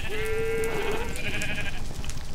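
A sheep bleats in a Minecraft-style video game, one clear wavering cry of about a second followed by a fainter second bleat, over a low background hum.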